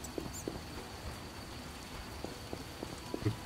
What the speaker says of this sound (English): It's dark, it's raining